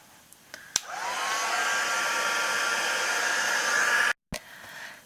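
A heat tool blowing hot air to melt embossing powder on a canvas, a steady loud whoosh and whine that starts after a few small clicks, runs for about three seconds, then cuts off abruptly and restarts briefly.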